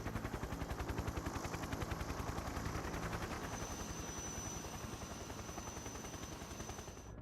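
Helicopter interior in the video game Metal Gear Solid 3, a loud steady rotor chop with rapid rhythmic thumping throughout, dense and close, with no talking.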